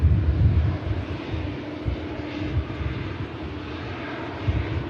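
A jet aircraft at Manchester Airport gives off a continuous low engine rumble, fairly distant and steady throughout, mixed with gusty wind buffeting the microphone.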